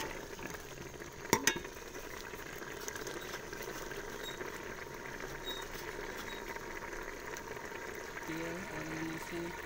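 Ghee fries in a pan while it is stirred, a steady close sizzle with a couple of sharp utensil knocks near the start.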